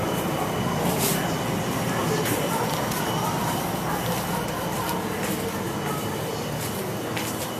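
A Chicago elevated train stands at the Dempster-Skokie terminal, giving a steady, loud broadband rumble and hiss with faint metallic ticks, continuous throughout.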